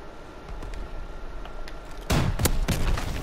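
Gunfire bursts in a gun-game video game match, a quiet stretch of background game noise giving way after about two seconds to a louder cluster of sharp shots with a strong crack midway.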